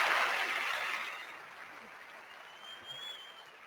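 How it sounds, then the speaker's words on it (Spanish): Applause for a speaker at an online panel on digital nomads: a broad burst of clapping that starts loud and gradually fades to a faint, thin patter, with a brief whistle-like tone near the end. "Mira, aplausos para Elsa."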